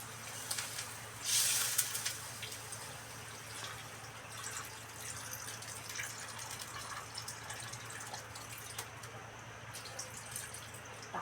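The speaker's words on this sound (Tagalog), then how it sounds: "Tapos lalagyan natin ng tubig para kumulo na ang aking pininyahang manok." Water runs into a cooking pot for pineapple chicken, a steady stream with a brief louder gush near the start, under a constant low hum and no talking.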